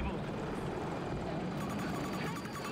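An attack helicopter in the Battlefield 2042 video game drones as a steady rotor thrum beneath heavy battle noise and voiced callouts.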